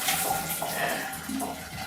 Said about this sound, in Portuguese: Eu liguei a água fria